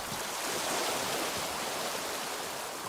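Loud, steady rushing water in the video game Tainted Grail: Fall of Avalon, a dense continuous roar like a stream or waterfall, close and unbroken with no talk.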